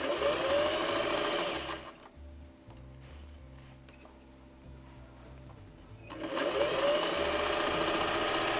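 A sewing machine stitches around the edges of a gathering basket apron, running loud and steady, easing to a quieter, slower hum in the middle, then speeding back up to a full whir.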